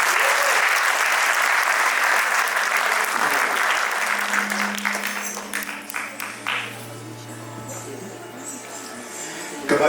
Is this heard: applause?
yes